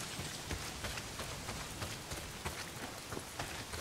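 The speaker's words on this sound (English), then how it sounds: "Not if it's pissing down rain." Heavy rain pouring down in the Days Gone video game, a loud, dense, steady hiss of falling drops with scattered sharper spatters, heard alone without talk.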